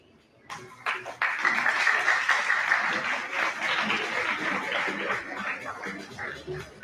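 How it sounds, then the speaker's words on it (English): Audience clapping in a conference auditorium as guests are called to the stage, starting sharply after a brief pause and holding as a dense, moderately loud round of applause. "Please give them a big round of applause."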